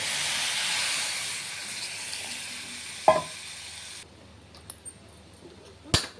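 Curry boils in a pot with a broad, steady hiss that drops off partway through, leaving a quieter bubbling background broken by a couple of sharp metallic clanks.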